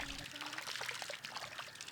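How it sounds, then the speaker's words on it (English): Cow dung slurry pours and trickles into an azolla pond, a short, soft, wet splashing that sounds fairly distant and faint. "Add cow dung slurry to increase the available nutrients"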